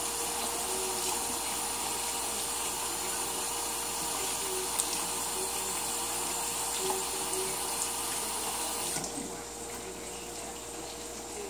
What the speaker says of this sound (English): So I'll wash my hands from the bacon grease because I don't like it.